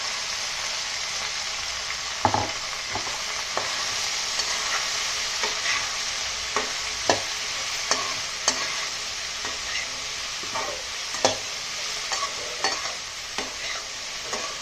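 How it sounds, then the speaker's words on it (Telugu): Cut okra sizzles steadily in hot oil with tempering spices while a spoon scrapes and stirs the pan in repeated sharp strokes, the frying close and continuous with no talk. "ఇప్పుడు దీంట్లో బెండకాయ ముక్కలు వేసేస్తున్నాను"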